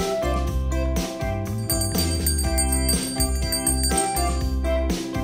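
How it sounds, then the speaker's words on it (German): A bell rings in a repeated tinkling pattern within a children's sound-guessing game, bright and close with ringing tones layered over a steady musical backing. "Eine Glocke?"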